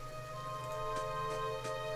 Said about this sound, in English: And now the rain is getting me.